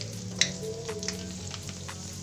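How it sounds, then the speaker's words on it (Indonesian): Prawn crackers fry in hot oil with a steady, close sizzle and light crackling, and a few sharper pops stand out over the continuous bubbling. "Di sini saya mau goreng kerupuk udangnya"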